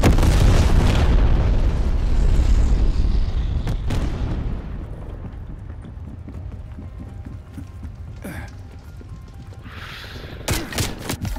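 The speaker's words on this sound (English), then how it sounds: "Enemy napalm strike is coming." Napalm strike explosions in Call of Duty: Black Ops Cold War, a loud, rumbling blast that decays into sustained crackling fire, with several sharp bursts and pops later on.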